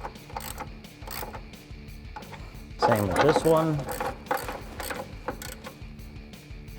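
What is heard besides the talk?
16mm socket ratchet tightening bolts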